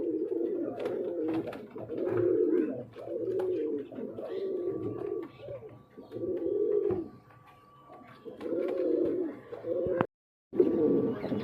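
Pigeons in a loft coo in repeated low, throaty bursts with short pauses between them, close and fairly loud. The birds are a breeding pair with big feathered feet.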